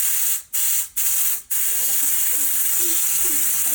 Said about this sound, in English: just use compressed air, and you can kind of blow through it and actually spin it off.